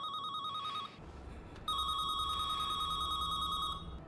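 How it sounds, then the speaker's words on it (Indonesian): Mobile phone ringing from inside a jacket pocket in a film scene, an electronic trilling ringtone that pauses briefly and then resumes, fairly faint over a low room rumble. "sebuah jas dengan ponsel yang berdering di salah satu sakunya"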